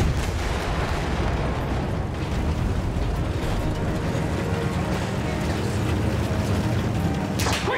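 Dense battlefield rumble of field gun shelling in Battlefield 1, a World War I shooter, with continuous heavy booms and low roar filling the whole stretch, loud and close, a sharp burst near the end.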